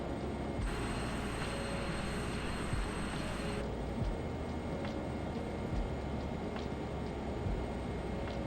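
A Learjet 35A jet in Microsoft Flight Simulator 2020 on approach with full flaps, giving a steady, dense engine and airflow roar that runs unbroken throughout, with a slight shift in tone partway through and no talking.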